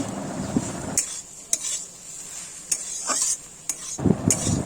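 Fish curry stirred in a pan, with repeated scraping strokes of a spoon against metal over a soft bubbling sizzle, close and clear.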